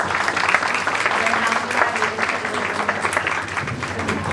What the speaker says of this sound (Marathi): टाळ्यांचा गजर